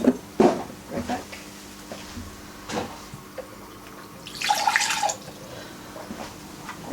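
Tap water drawn into a bowl for homemade dumpling dough: brief splashy bursts and drips, one longer hissing pour midway, with light kitchen clatter around it.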